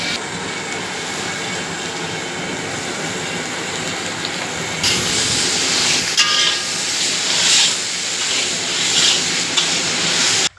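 Ginger and tomato roast in a pan while a meal is cooked for 100 people. A loud, continuous sizzling hiss fills the whole stretch and grows stronger and rougher about halfway through.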